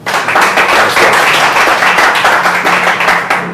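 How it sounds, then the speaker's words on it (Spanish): Audience applause at a podcast recording welcoming a marathon champion, dense loud continuous clapping from many hands with no voices over it. "nos regalan un fuerte aplauso"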